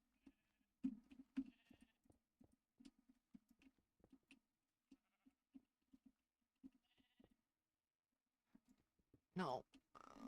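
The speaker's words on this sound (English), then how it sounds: "the sheep are annoying" Sheep bleating in the Minecraft InfDev version, several short repeated calls scattered across the stretch with game ticks and clicks, ending in a louder burst of noise.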